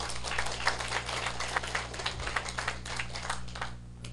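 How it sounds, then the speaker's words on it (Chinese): An audience at a Taiwanese civil-government lecture claps in scattered, uneven bursts, faint and distant, steady for a few seconds before thinning out. "咱来替高沙拍拍手"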